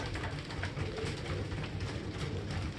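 Racing pigeons coo steadily and close by, a dense, continuous murmur from a loft full of birds with no clear pauses.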